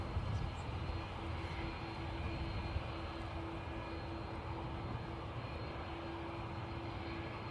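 A British Airways jet departing Dublin Airport for Heathrow, a steady, broad engine roar with a constant tonal whine, fairly loud and unbroken throughout, with no talk.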